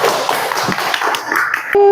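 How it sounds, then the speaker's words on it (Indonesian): Students applaud in an Indonesian school classroom: a brief burst of brisk, dense clapping at moderate loudness, thinning out over two seconds before a tone cuts in at the end. "Tepuk tangan untuk Citra."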